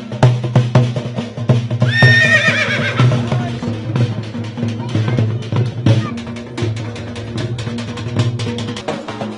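Horses whinny repeatedly at the Sarangkheda horse market in Maharashtra, India, with one loud, high neigh standing out, amid steady crowd babble and people talking throughout.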